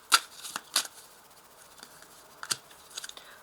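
Tarot cards being shuffled in the hands, several short crisp riffling bursts spaced apart, close and fairly quiet with no talking.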